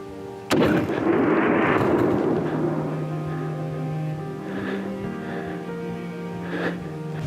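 One sharp, loud rifle shot cracks out while hunting wild sheep, followed by a long rolling echo that slowly fades across open terrain.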